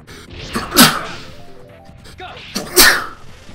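A person sneezing twice in a short fit, two sharp loud bursts about two seconds apart with a brief breathy gap between them.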